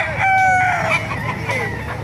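A rooster crows once at a busy chicken market, a close, bright call over a constant murmur of crowd noise and other birds.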